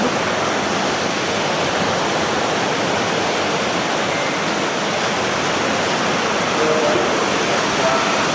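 Steady broadband rush of flowing water, constant and fairly loud throughout, like a river or rapids nearby, with faint voices barely audible underneath.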